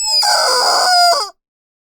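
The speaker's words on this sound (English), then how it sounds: "Sometimes it's the chickens." A rooster crows loud and close in one long drawn-out cock-a-doodle-doo that ends abruptly, followed by silence.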